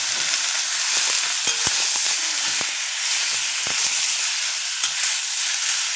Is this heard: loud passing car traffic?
no